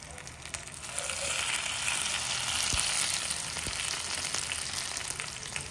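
Tacos frying in oil in a pan over low heat, a steady close sizzle with soft bubbling crackle and a few faint pops, alone with no talk.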